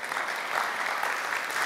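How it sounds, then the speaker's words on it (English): A church audience applauds a reader named Lewis, producing a dense, steady patter of many hands clapping at moderate volume for the whole short stretch, with no voices over it. "let's give Lewis a round of applause for that"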